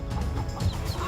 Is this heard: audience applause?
no